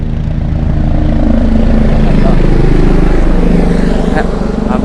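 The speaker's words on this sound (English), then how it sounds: "I'm sorry for this helicopter." Helicopter passing low overhead above a forest, a loud, steady rotor and engine roar filling the whole clip, swelling slightly in the middle.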